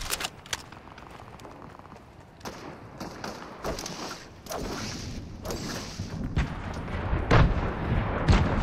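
Gunfire and thudding impacts in a Fortnite match, scattered irregular shots and booms over a continuous game backdrop, moderately loud throughout with no speech.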